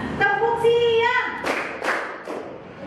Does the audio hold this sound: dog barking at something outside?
no